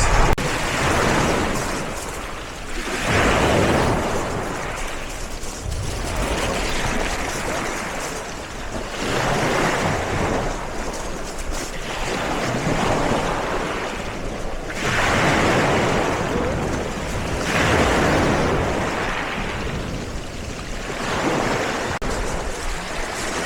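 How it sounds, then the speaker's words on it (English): Ocean waves break on a beach in wind, swelling and receding in a slow rhythm of roughly five-second surges, close and steady, with wind buffeting the microphone and no talking. "Oh, I love hearing the waves and the air here."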